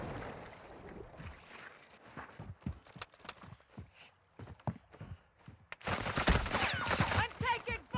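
Rapid bursts of automatic gunfire crackle through a Warzone 2 match with an RPK, with dense shots in the first half and a louder, sustained stretch of fire near the end.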